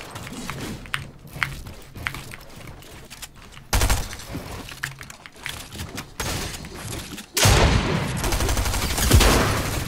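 Gunfire in a shooter video game: light scattered shots and thuds, then a loud sustained burst of rapid fire, with dense, continuous volleys toward the end.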